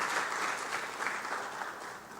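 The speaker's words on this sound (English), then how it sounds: "So let us give ourselves a clap again." Seminar audience at a 2023 university completion event clapping for themselves, a continuous soft wash of many hands fading slightly toward the end, moderately distant with no talk.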